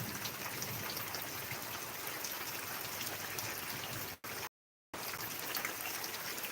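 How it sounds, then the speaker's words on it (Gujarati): Dense, steady hiss of heavy rain pours down in Banaskantha without letup, interrupted once by a brief gap of silence. "બહુ સારો વરસાદ પડી છે"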